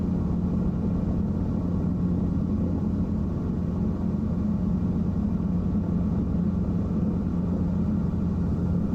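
A small helicopter in Microsoft Flight Simulator cruising at about 90 knots, giving a steady, unbroken rotor and engine drone with deep rumble throughout and no pauses.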